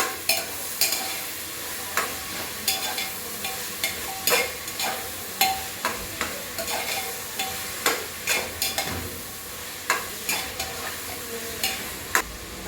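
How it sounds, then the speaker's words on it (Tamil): Chopped vegetables for veg biryani sauté with salt in a pan, soft frying hiss broken by regular clacks and scrapes of a spoon stirring against the pan, quiet and without speech. "காயெல்லாம் கொஞ்சம் வதங்கணும்னு பண்ணாக்கா உப்பு ஆட் பண்ணி வதக்கிக்கலாம்."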